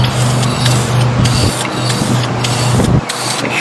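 Spray paint hisses onto Corvette parts in loud, close bursts of about a second and a half each, with a low compressor hum beneath and brief gaps between passes.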